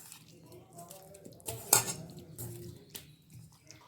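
Chicken being worked by hand or spoon into a sour yogurt marinade in a bowl, with soft wet squelches and clinks against the dish, one sharper clatter in the middle, no talking.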